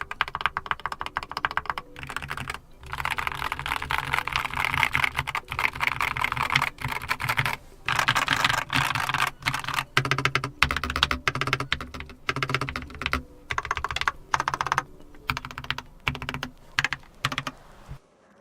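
Rapid, steady typing on a Keychron K8 QMK Version 2 mechanical keyboard, with dense clacking keystrokes and brief pauses between bursts, close and clear with no talking.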